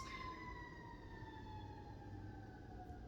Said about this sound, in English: there was a siren that went by, like right at the same time.